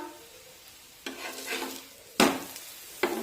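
A cabbage paratha fries on a hot pan, a quiet sizzle that flares into bursts of hissing as it is pressed or turned, three distinct surges with a faint utensil scrape, close by and without talk.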